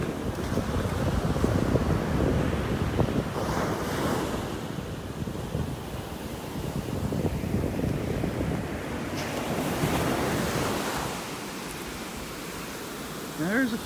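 Surf washing continuously onto a beach in North Naples, Florida, at an outgoing tide, with steady wave rush and wind noise on the microphone throughout, swelling and easing as waves break nearby.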